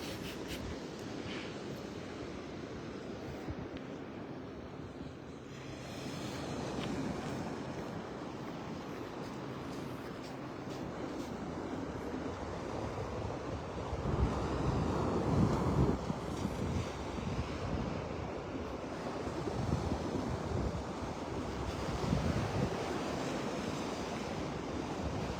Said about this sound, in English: You can see where those waves are breaking out there.